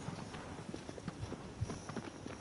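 A horse's hooves clip-clop over ground in the video game Shadow of the Colossus, giving a quick, uneven run of soft thuds. The sound is faint and close, with a low background wash and no speech.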